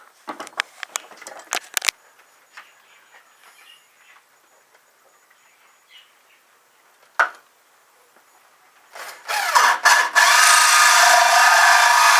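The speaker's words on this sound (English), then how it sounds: "To drill this hole, I'm going to be using a 2-inch hole saw, which just connects to the drill." Clicks and taps, then quiet handling, before a power drill with a 2-inch hole saw spins up and grinds steadily through wood, loud and close, until the end.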